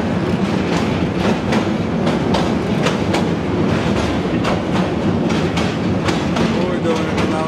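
A train rumbles steadily across the Bhairab railway bridge, wheels beating a loud, regular clickety-clack over the rail joints, heard close from inside a carriage.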